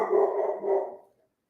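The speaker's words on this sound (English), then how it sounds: "barking dogs" A dog lets out two quick, loud barks close by, heard on their own with no talk.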